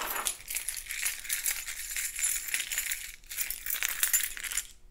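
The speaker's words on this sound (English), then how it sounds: "Keys. They're my keys." A bunch of metal keys jingles and rattles continuously off to one side, bright and fairly close, with a short pause midway before the shaking resumes.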